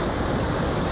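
Steady broadband rush of wind and water on a double-decker ferry crossing from Manly Beach to Circular Quay, a continuous loud wash with no talk over it.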